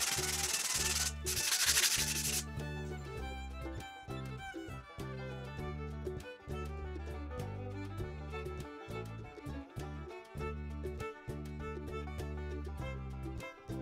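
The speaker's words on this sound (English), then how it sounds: "I used finer sand block like a 400 grit to apply a second" Sanding of a Billing Boats FD-10 yawl wooden ship model with a fine 400 grit sand block, soft rubbing strokes set under steady tonal background music, with a brief hiss near the start.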